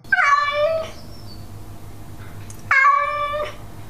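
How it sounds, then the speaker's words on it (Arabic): A domestic cat meows twice, a close, clear call followed by a second similar meow after a short pause, with quiet background between them. "تستخدم القطط القر للتعبير عن احتياجاتها، مثل الجوع أو الرغبة في اللعب أو الانتباه إليها"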